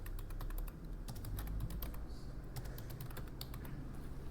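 A name typed on a computer keyboard, giving a steady stream of light, rapid key clicks over a constant low hum.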